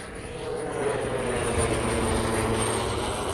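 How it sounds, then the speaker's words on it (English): A loud jet airplane flying in toward San Carlos airport, a steady roaring engine drone that stays strong and close throughout, heard alone without talk. "That is that loud plane that I see flying into the San Carlos airport."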